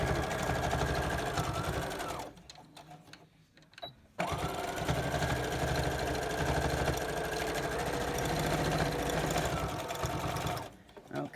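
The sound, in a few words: sewing machine stitching a cotton mask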